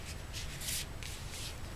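A deck of tarot cards is shuffled in quick, soft bursts, several short rustling riffles close by against a quiet background.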